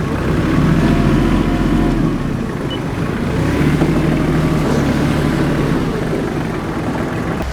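A Kubota KL-21 Japanese mini tractor with its engine running steadily as it drives between rows, a loud continuous mechanical drone with no voices.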